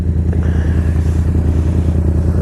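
A Triumph Street motorcycle engine rumbles close by in a steady, loud low throb with a pulsing exhaust beat, heard alone without talk.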